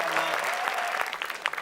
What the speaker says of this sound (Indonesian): Walaupun mungkin jawabannya kurang tepat, tapi kita beri tepuk tangan untuk Alma.